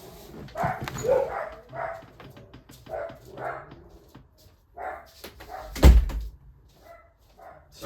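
Several dogs bark indoors, setting off in a series of sharp, loud woofs that come in bursts and overlap, with one sudden heavy bang partway through, close by and not under any talking.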